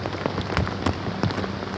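Late November rain falls outdoors in a wooded setting, a steady patter of drops on surfaces with scattered louder individual splashes close by.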